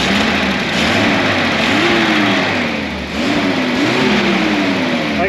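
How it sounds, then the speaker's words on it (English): A 1973 Datsun 240Z turbo engine runs at very low RPM after sitting unused for over 20 years. It gives a steady, loud, close mechanical drone, with slow pitch rises and falls as it revs slightly and then settles. "it's running at a ridiculously low RPM"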